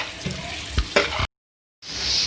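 Cut carrots and potatoes frying in a pan give a steady close sizzle with a few stirring knocks, then cut out to near silence briefly before the hiss returns brighter.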